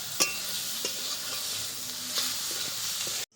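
Boiled pointed gourd being stirred in a pan, steady sizzle with a few sharp scrapes and clinks of the spoon against the pan, close up and alone.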